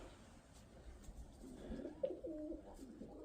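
A pigeon coos softly a few times from fairly close by against steady low background noise, with no talking.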